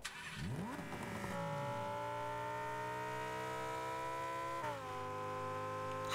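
Lamborghini Huracan engine in the Rocket League video game, a sustained revving drone with rising pitch sweeps at the start, then a steady high whine that dips briefly near the end, loud and alone.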